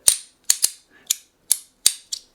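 Sharp metallic clicks from an Umburry Mokuti haptic coin fidget toy, about seven in irregular pairs and singles, crisp and close with quick decays and no talking.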